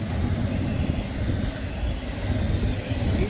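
A freight train passes around Huron and Vermilion, Ohio, a heavy, continuous low rumble of rolling wagons, steady and fairly close, with no talking.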